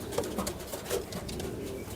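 Pigeons in a loft in Uttar Pradesh give low, repeated cooing calls, close and steady against a noisy background.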